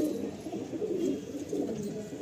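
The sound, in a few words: Madrasi pigeons cooing in a loft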